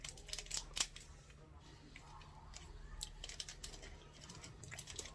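Scissors snip through a snack package from an Egyptian snack box, a few short, crisp cuts close by with rustling plastic in between and quiet voices in the background.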